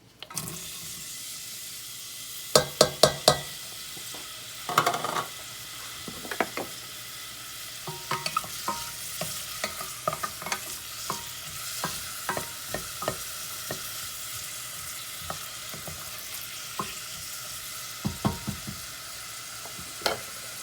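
Onion cooking in a tablespoon of hot oil in a pan on a medium-high stovetop, a low steady sizzle punctuated by repeated sharp spatula scrapes and taps at an irregular pace, no voices.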